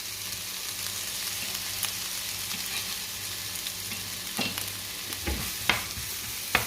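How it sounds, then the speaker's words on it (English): Red onions sizzle and fry quietly and steadily in a pan, with a few soft knocks of a spoon stirring them toward the end. "Give it a gentle stir."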